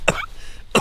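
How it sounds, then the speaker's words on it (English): Two sharp coughs outdoors at a campsite in the woods at night, one near the start and one just under a second later, close and fairly loud. "Why am I coughing now?"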